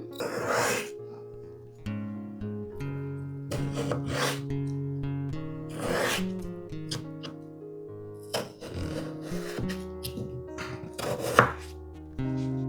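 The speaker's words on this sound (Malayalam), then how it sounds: "പൊട്ടറ്റോ ഇതുപോലെ ചെറിയ പീസസ് ആയിട്ട് കട്ട് ചെയ്യണം" A knife cuts a potato into small pieces on a board, with repeated close chopping strikes in uneven rhythm over a faint background hum.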